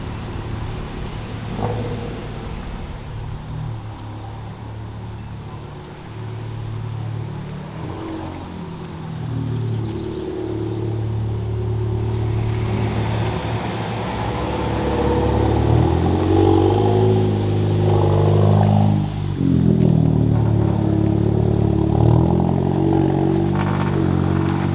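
Toyota Chaser JZX100 sedan pulling away, a low engine drone that grows as the car revs and accelerates, with a rising pitch sweep near the end over some outdoor clatter.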